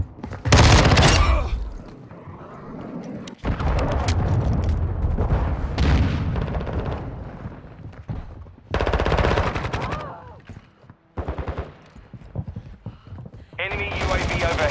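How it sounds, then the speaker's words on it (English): Loud, close gunfire and explosions in Call of Duty: Modern Warfare II after a cruise missile launch, with dense rattling bursts and heavy booms broken by short gaps, and voices heard between them. "Hostiles launched a cruise missile"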